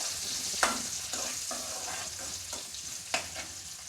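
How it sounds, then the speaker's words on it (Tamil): Finely chopped onion sizzles on low flame in a pan, a quiet steady frying hiss broken by several soft clicks of stirring, with no talking. "ஒரு வெங்காயம் எடுத்து பொடியாக நறுக்கி வச்சுருக்கேன். அதை போட்டுக்குவோம்."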